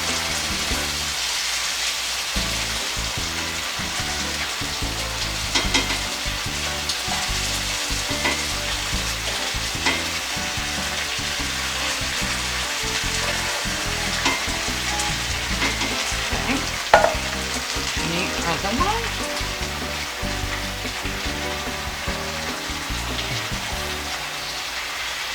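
Canned apples for an apple cobbler fry in foaming butter, giving a loud, continuous close sizzle with occasional stirring scrapes and no talk.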